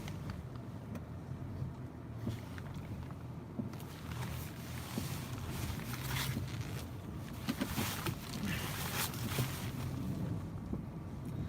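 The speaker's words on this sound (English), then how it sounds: "Move where you can hear the wind." Steady outdoor wind from Hurricane Eta in the Florida Keys rushing and buffeting the microphone, with a low continuous rumble and occasional louder gusts throughout.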